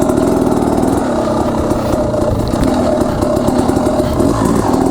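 KTM 300 Enduro two-stroke dirt bike engine revving hard up a bank, a loud, close, raspy engine roar throughout with no talk.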